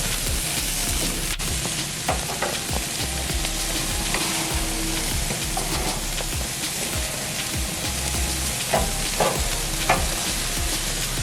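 Steak sizzles on a backyard barbecue grill, a dense continuous crackle and hiss with scattered sharper pops, loud and close throughout.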